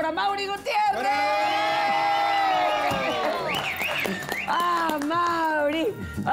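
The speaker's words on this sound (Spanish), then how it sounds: "Vamos a recibir con un gran aplauso al gran cantautor" An audience on a Mexican TV show cheers and whoops to welcome a Cuban singer-songwriter, with loud shouts and a host's excited voice calling out over the noise.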